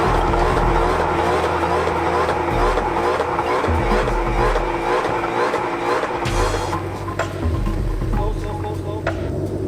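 Loud roaring engine of a Ford Mustang drag race car revving hard on a track, with tires squealing and a voice talking over the noise.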